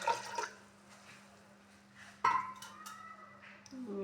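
Water pours into a pot with moong dal during cooking. Soft splashes and trickles come in short bursts, one sharper pour near the middle, all fairly quiet and close against a faint background hum.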